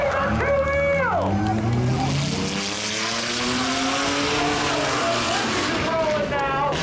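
A car balances on two wheels after a ramp stunt at the Hudson Speedway Memorial Day thrill show, its engine revving and whining with shifting pitch while excited voices shout over the loud outdoor crowd noise.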